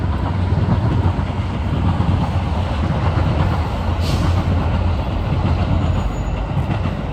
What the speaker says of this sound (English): got the train coming.